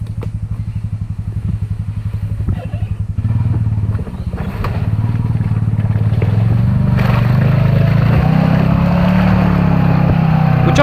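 Honda Pioneer 500 UTV engine chugging and then revving hard as it drives through a muddy rut, a loud close motor roar with clattering and thumps from the rough ground.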